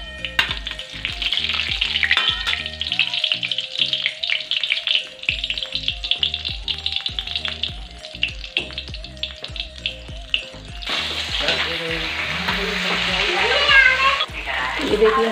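Spiced masala with cumin frying in hot oil in a pan, a steady close sizzle with scraping stirs throughout, growing louder and busier near the end.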